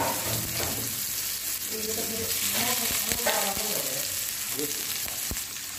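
Ginger and onion sizzle in a hot pan while noodles with cabbage and egg are being cooked, a dense continuous frying hiss with a few sharp utensil taps, close by, with a voice talking faintly over it.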